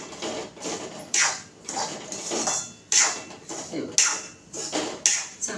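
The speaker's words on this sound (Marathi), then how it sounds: "आणि अजून 2 मिनिटं त्याला चांगलं हलवून घेते।" A spoon scraping and clinking against a pan while rava is stirred in ghee for rava ladoo, sharp metallic taps at an irregular pace about once a second over a soft background hiss, close up, with no talk.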